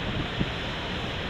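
Steady, broad wind noise rushes continuously at an outdoor pool with no pauses or speech.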